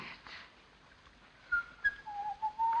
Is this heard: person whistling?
yes